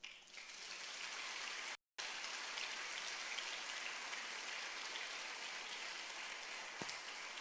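A church congregation applauds in a dense, continuous roar of clapping that briefly cuts out, then resumes just as strongly with no talk over it.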